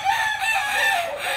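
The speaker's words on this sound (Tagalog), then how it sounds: "pinapakinggan mo yung manok, yung sounds nila" A rooster crows close by, one sustained call filling the whole moment with steady loudness and no other sounds.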